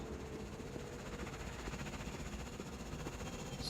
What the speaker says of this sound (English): Spooky drone.